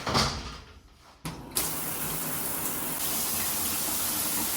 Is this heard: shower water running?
yes